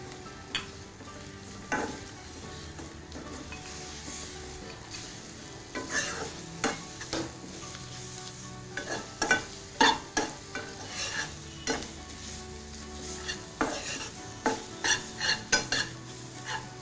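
Chicken sautéing in a pan while being stirred, with steady sizzling under repeated scraping and clinking strokes of a spoon against the pan, growing busier and louder in the second half; no voices.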